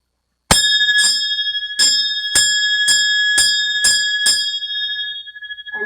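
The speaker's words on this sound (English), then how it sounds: "You ring the bells." Bright metal bells at a Hindu aarti worship before a Durga image ring out in seven sharp, evenly spaced strikes, loud and close, each shimmering tone overlapping the next and slowly fading.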